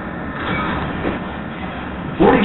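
A CTA Red Line subway train rumbles along the track in Chicago, a steady rolling drone with a brief louder screech at the end.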